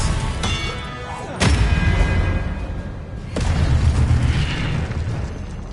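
An Expelliarmus spell cast in Hogwarts Legacy lands as two sharp, explosive bursts, each followed by a lingering rumbling roar, loud and close with no talking.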